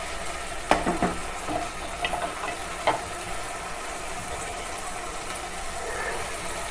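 Garlic and ginger paste sizzles in a pan for aloo keema while a spoon stirs it, a steady frying hiss with a few scraping knocks early on, close and moderately loud.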